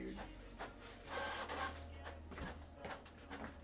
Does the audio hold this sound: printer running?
yes